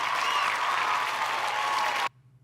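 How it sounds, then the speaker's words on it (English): An audience claps steadily in a round of applause for about two seconds, a dense even patter that stops abruptly into near silence. "let me give you a round of applause"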